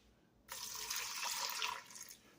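Tap water running into a bowl of dry dog food: a steady, close splashing stream that starts abruptly, runs for about two seconds and then tapers off.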